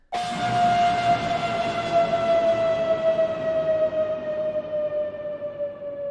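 A bright, sustained tone of a cinematic riser made from piano swells in and holds steady at its highest pitch, washed in heavy reverb with shimmering overtones, slowly drifting and fading with no voices present.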